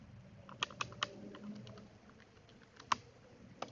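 Keys tapped on a computer keyboard while a number is entered into a calculation, a few sharp close clicks spaced irregularly over quiet background, with one louder keystroke.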